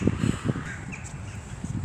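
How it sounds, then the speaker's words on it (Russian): Crows cawing outdoors in a snowy, windy spell, a few harsh calls spread across the moment at moderate distance, with low wind rumble underneath. "Вот эти хозяева, эти вороны."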